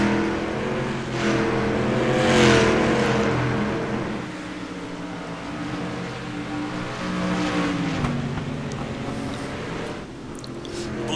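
Race cars at Oswego Speedway's oval in a JBSRL Rising Stars event, engines droning and shifting pitch as they pass through the corner, with an announcer talking over the steady, loud drone.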